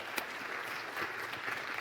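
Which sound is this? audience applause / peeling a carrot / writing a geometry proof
audience applause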